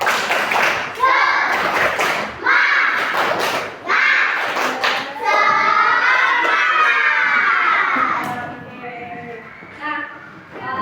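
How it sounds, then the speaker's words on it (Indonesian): A school class does the 'tepuk semangat' clapping chant, children's voices shouting in rhythm with bursts of claps and thumps, loud and close, ending with an adult voice speaking. "Tepuk semangat"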